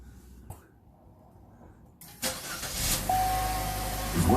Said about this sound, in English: now we're ready to start the engine, let it run for a couple minutes